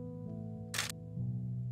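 A single camera shutter burst fires once, crisp and close, over a steady low hum while photographing a drumming ruffed grouse from a blind.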